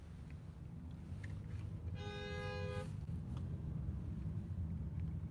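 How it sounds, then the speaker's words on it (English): A car horn honks for about a second amid steady outdoor traffic and wind rumble. "That dude's honking because the other dude was stopping to look at me."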